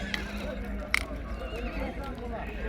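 A horse whinnies sharply at a busy livestock horse market in Nooken, one loud nearby neigh cutting through crowd chatter, bargaining voices and occasional hoof clops.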